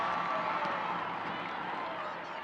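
Stadium crowd at an NWSL women's soccer match between OL Reign and Washington Spirit, a steady distant roar of cheering and murmur filling the whole stretch without breaks.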